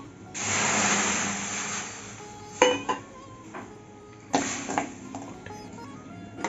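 Jaggery being stirred with a little water in a pot while making a sweet-sour-spicy mango pickle, with a long scraping swirl early on and sharp metallic clinks of the spoon against the vessel later, no talking.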